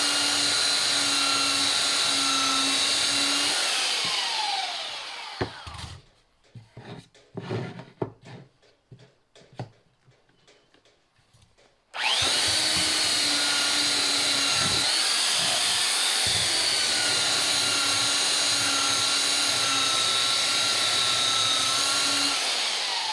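A Makita 9903 belt sander runs loud and steady with a high whine, cuts out for several seconds of quiet scraping and handling, then starts up again and drones on without a break.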